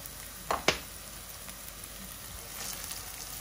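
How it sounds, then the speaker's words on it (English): Herbs and a ground spice mixture sauté in a pan, giving a steady low sizzle with a couple of sharp clatters early on, close by and without speech. "Reduce the heat a little bit so it starts to stick. And just sauteing all this"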